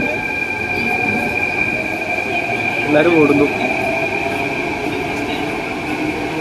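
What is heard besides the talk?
train at a busy Delhi station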